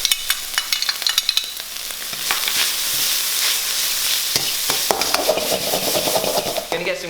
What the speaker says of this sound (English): So my pickled vegetable into the wok.